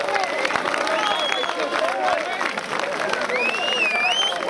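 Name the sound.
crowd applause for the police at rally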